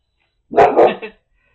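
A single close dog bark, a quick double-pulsed woof with a short trailing yip, in an otherwise silent setting.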